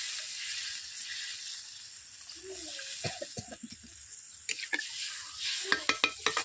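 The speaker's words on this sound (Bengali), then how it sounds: "অল্প করে আমি জল দিয়ে দিচ্ছি।" Water splashed into a hot pan while cooking rui fish curry sets off a soft hiss with sharper sizzling pops and crackles that grow more frequent toward the end.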